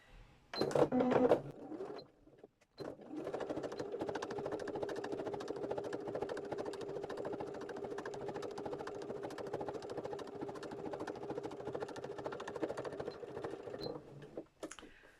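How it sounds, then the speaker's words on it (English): Sewing machine stitching slowly through thick layers of fabric and interfacing for a bag, a steady rapid mechanical chatter running for about eleven seconds after brief handling knocks, close and fairly loud. "I'm taking it really slowly because I'm stitching through a lot of fabric here"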